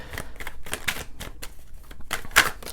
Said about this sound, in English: I'm going to shuffle until Spirit tells me to stop